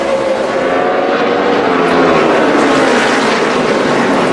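NASCAR stock cars roar past in the final laps of a race, a loud, dense engine drone that swells slightly and holds steady without any voice over it.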